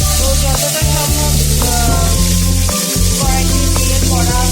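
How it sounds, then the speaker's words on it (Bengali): Prawns sizzle hard in a hot kadai while being fried for prawn malaikari, a steady bright hiss running throughout with music playing underneath and no talking. "খুব বেশি তো ভাজার দরকার হয় না, একটু লাল লাল করে ভাজলেই হয়ে যায়"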